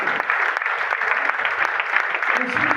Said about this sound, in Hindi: जोरदार तालियों स्वागत